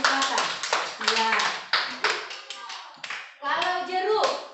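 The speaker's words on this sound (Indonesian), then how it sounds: "coba tepuk tangan dulu untuk Ica." Children in an elementary classroom clap their hands for a classmate, a run of quick claps mixed with their voices chanting along throughout.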